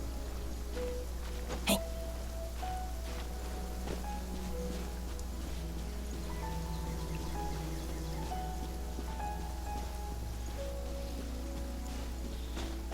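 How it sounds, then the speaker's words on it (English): Steady rain falls in the video game Genshin Impact, a soft continuous patter over a low rumble, with faint tonal music notes drifting through and one sharp click early on. "why miss all this gorgeous rainy weather? I love it."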